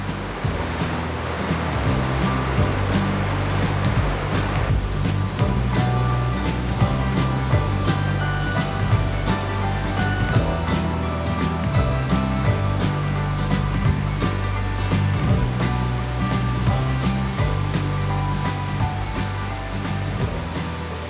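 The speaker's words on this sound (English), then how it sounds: "Waterfall number 3. Absolutely beautiful." Waterfall on the four waterfalls trail in the Brecon Beacons, a steady, loud broadband rush of falling water filling the whole stretch without pause, no voices heard.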